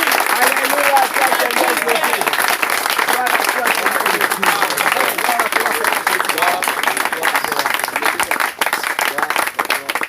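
Sustained applause and cheering from a pastors' conference audience, dense and loud throughout, with shouting voices mixed into the clapping.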